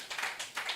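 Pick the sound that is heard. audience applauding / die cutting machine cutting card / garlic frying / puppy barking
audience applauding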